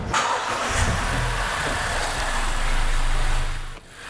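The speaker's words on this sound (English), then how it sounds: "let's start the engine." Gasoline direct injection car engine cranking and catching, then settling into a steady mid-pitched idle with a low rumble, close and fairly loud.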